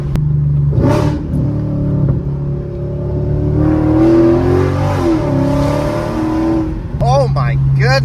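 Mercedes E55 AMG engine dropping a gear with a loud exhaust, revs climbing and falling in a sustained roar from inside the car, with people talking over it.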